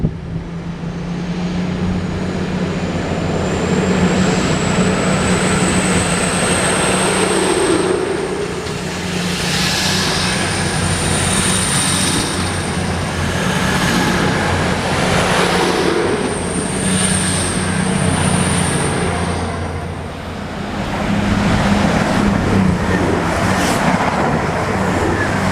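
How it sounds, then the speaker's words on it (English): A train pulling into platform 3 at Ashford, bound for London St Pancras from Corby, gives a long continuous rumble with a steady high whine, loud and close throughout, rising and falling slightly over the passage. "A train in platform 3 going to London St Pancras,"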